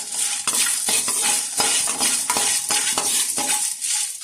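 Dried red chilies, urad dal and chana dal dry-roasting in a pan, stirred with a utensil that scrapes and knocks the metal in a brisk, irregular rhythm, close and fairly loud over a soft frying hiss.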